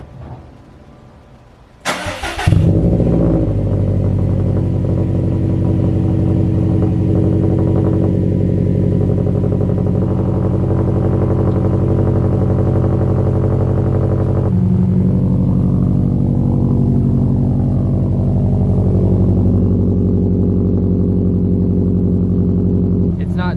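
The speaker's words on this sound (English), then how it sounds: "this will be the first time you guys hear it on the car" A Subaru WRX STI engine with a new catback exhaust starts with a sharp burst, then settles into a deep, steady exhaust rumble at idle, loud and close, with a slight change in tone partway through.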